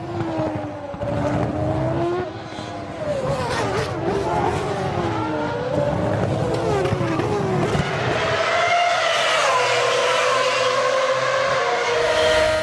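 Formula 1 race cars from the 2007 season in a racing video game, led by the Ferraris, scream past with overlapping engine whines that rise and fall in pitch, a constant loud roar over faint crowd noise.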